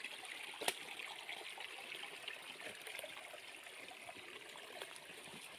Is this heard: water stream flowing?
yes